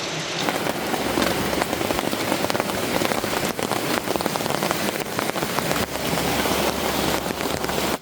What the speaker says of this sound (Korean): 빗줄기가 점점 굵어져요